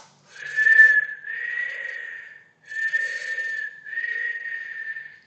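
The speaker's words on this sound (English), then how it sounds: "Inhale, exhale through the mouth, and as you see, it's the position of that you use to whistle." Breath is exhaled through puckered lips in the position used for whistling, making breathy whistled tones. Four sustained notes come in two pairs with a short pause between the pairs, close and clear against silence.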